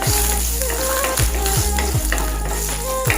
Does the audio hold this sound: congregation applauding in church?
no